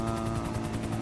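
AMR air ambulance helicopter in GTA V, a steady rhythmic rotor chop with engine whine, close and constant, no talk.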